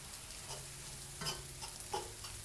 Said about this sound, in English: Now all I gotta do is finish browning up this beef